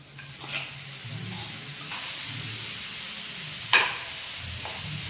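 Spiced masala being stirred into idli batter cooking in a pan, a soft steady sizzle with a few scraping stir strokes and one sharp clink, close and alone without voices.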